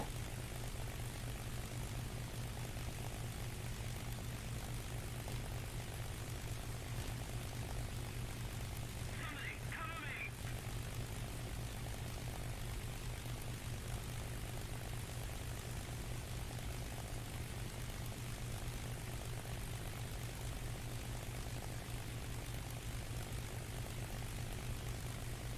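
Steady propeller aircraft engine drone from a flight simulator game, a continuous broadband hum with no breaks throughout, with a brief faint chirp partway through.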